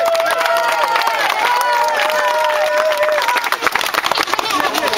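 A crowd at a basketball court donation event in Villa Altagracia applauds and cheers loudly and steadily, with a voice calling out over the clapping and the noise thinning toward the end.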